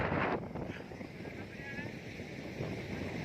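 Strong, gusty storm wind buffets the microphone in a steady roar, with a louder blast at the start and faint voices underneath.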